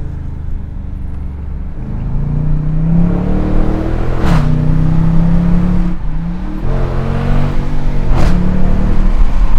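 A Dodge Challenger R/T 345 with an eight-speed automatic accelerating hard, its loud engine note climbing steadily then dropping sharply at each of two upshifts, close and continuous with no talk.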